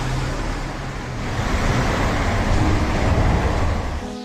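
Steady road traffic rumbling beneath a massive viaduct in Naples, a continuous dense wash of passing cars with low engine drone, no distinct horns, no voices.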